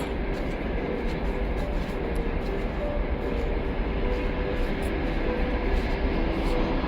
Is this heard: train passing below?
yes